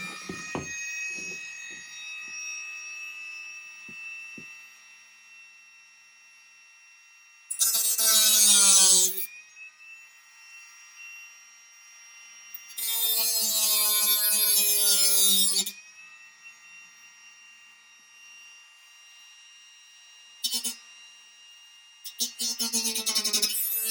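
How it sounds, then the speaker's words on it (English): A Dremel rotary tool running at low speed grinds on arcade gun parts in several separate bursts of harsh, whining buzz, with a faint tonal hum between them. "I'm going to turn my Dremel down. I don't need it to be extremely fast."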